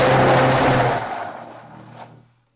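An electric blender whirring through potatoes and milk, a loud close motor hum that winds down and stops after a couple of seconds.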